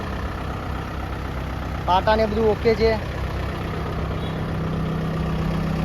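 A Kubota MU4501 45 hp tractor in fresh condition idles with a steady low hum, while someone talks briefly over it in the middle.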